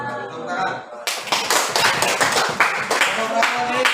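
Lively hand clapping from a classroom audience in an Indonesian teacher-training session breaks out suddenly after a voice and continues as dense, slightly irregular claps at close range.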